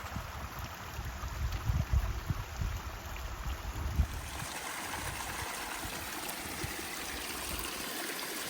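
Mountain creek flowing close by on a high-country pass route, a continuous rushing gurgle with some louder splashing bursts early on before settling into an even wash.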